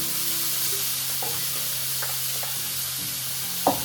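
Beans are stirred into a skillet of Mexican quinoa, with a steady, broad sizzle of frying throughout. A few soft stirring scrapes and clinks sound close up, and one brief louder knock comes near the end.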